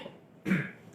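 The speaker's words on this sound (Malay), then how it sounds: "Batuk, tak maaf." A single short cough bursts out midway through a quiet indoor stretch, from someone speaking at a warm political talk session, close and moderately loud before fading back to silence.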